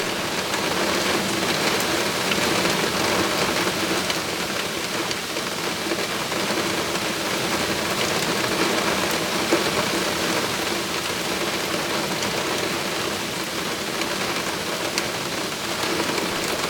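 Rain falling steadily, a dense continuous hiss of drops on surfaces at an even loudness throughout, with no voices.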